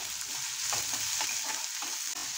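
Chopped onion tipped into hot oil already seasoned with mustard seeds, cumin and asafoetida for shev tomato bhaji, giving a steady loud sizzle with a few soft stirring scrapes and no voices.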